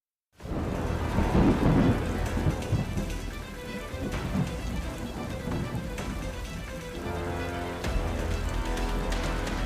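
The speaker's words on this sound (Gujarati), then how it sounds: "જુઓ કેવી રીતે ત્રાટક્યો તોફાની વરસાદ" Heavy stormy rain pours down with repeated rolls of thunder during a fierce windstorm in Gujarat, a loud, continuous roar of downpour with deep rumbles building throughout and no voices.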